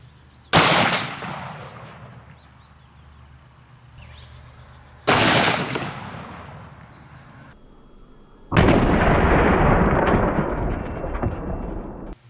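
Smith & Wesson 500 Magnum revolver firing 440-grain hard cast rounds into ballistics gel, three loud, close, booming shots spaced several seconds apart, each ringing out with a long echoing decay.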